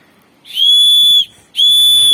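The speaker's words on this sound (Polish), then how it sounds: "Czekajcie, zagwizdzę. Mega mocne." A small whistle from a kit that also holds a compass and lamp gives two loud, shrill, steady blasts, the first longer, separated by a short gap, close to the ear.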